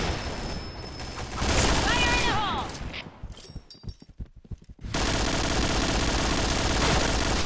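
Rapid bursts of gunfire from a Point Blank deathmatch game, dense and loud, dropping into a choppier stretch of separate shots before the full barrage returns, with a commentator talking over it.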